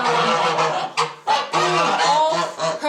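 Goose on a farm honking in repeated nasal calls of varying length, loud and close, with brief pauses between the honks.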